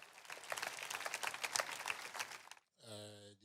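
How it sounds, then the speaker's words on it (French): A church congregation claps enthusiastically for a few seconds, uneven and lively, before the clapping cuts off and a voice begins speaking. "applaudissons pour Jésus-Christ."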